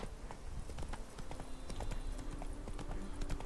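Roach, Geralt's horse in The Witcher: Blood and Wine, with quiet, rhythmic hoofbeats clip-clopping steadily at a trot for a few seconds over faint background ambience.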